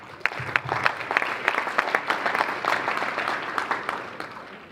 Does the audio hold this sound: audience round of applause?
yes